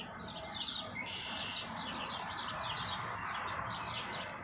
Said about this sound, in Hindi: आ देखो किन्ने प्यार नाल चिड़ियां कबूतर कट्ठे